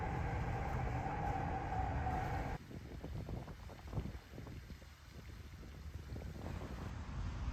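A Keihan Kyoto Line electric train gives off a continuous rumble of running and rolling noise with wind buffeting the microphone. The tone shifts and quiets partway through, then carries on steadily.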